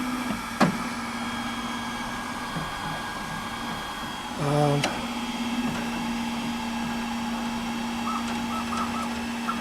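M5 Pro 3D printer homing its print head, a steady mechanical hum with a constant tone, punctuated midway by a brief rising motor whine as the head moves, close and even.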